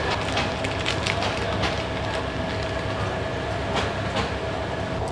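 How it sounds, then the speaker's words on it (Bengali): A passenger train, the Parjatak Express from Dhaka to Cox's Bazar, pulls out of Airport railway station with a loud, continuous rumble and scattered metallic clicks and clacks close by. "তাড়াতাড়ি ট্রেন ছেড়ে দিচ্ছে, আমরা উঠে পড়ছি"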